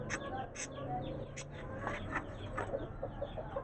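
A hen clucking among other farm birds and parrots, with short bird calls recurring over a steady background of rustling and chatter.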